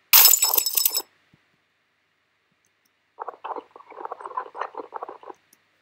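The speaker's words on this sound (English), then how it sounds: "I use the glass sound, just to create movement as the bullet travels through the skull" A breaking-glass sound effect used as sound design for a bullet passing through a skull: a brief bright shatter at the start, then after a pause a scattered run of tinkling, clinking fragments.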